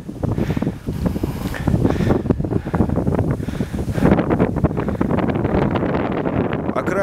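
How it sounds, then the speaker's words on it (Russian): Wind gusting across Koktebel Valley beside Karadag volcano in late November, a steady loud rush buffeting the microphone throughout, with no one speaking. "Достаточно ветрено."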